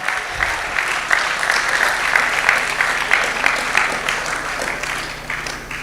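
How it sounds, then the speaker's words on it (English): Audience applause for contestants at an inter-medical-school public speaking competition, a steady wash of many hands clapping that holds for several seconds before easing slightly at the end. "an applaud for all the contestants"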